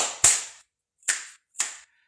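Three sharp, crisp finger snaps and claps ring out alone in quick succession, the first followed by a short pause and the last two closer together, each cut off cleanly.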